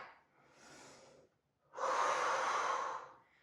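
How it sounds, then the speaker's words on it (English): Close, audible breathing during a glute and shoulder workout: a softer inhale, a short pause, then a longer, louder, forceful exhale through the mouth, with no talking. "Inhale and exhale."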